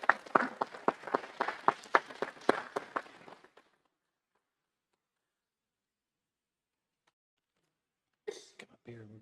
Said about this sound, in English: we'll give one round of applause, one last round of applause for our Students of the Month.